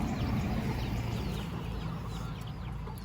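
Hens clucking among farmyard noise at a rural home in the morning, with faint bird calls over a steady low rumble, continuous and moderately close.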